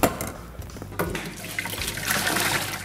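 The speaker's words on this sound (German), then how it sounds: "Und gieße erstmal meine Kartoffeln ab" Water pours and splashes steadily into a sink as a pot of boiled potatoes is drained, a rushing liquid sound lasting a few seconds.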